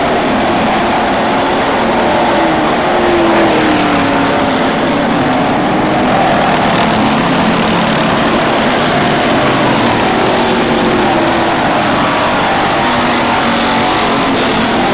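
Race truck engines roar steadily around a track, a dense, continuous mechanical drone with some pitch sweeps as trucks pass, loud throughout with no talk over it.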